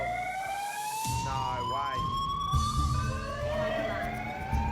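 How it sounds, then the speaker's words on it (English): Fire alarm blaring in the MasterChef New Zealand kitchen during a bread baking team battle, a loud, steady wailing siren tone sweeping in pitch, with brief talk underneath. "I'm not sure why the fire alarm went off."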